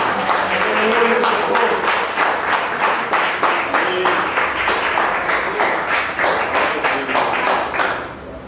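A church congregation stands and claps steadily in a fast, regular rhythm, loud and sustained throughout, with voices mixed faintly beneath the applause.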